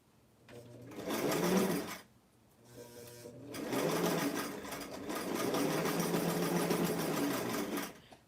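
A sewing machine stay stitching along a 5/8 inch seam allowance on blouse fabric, running in three close, steady bursts of whirring stitches separated by short pauses.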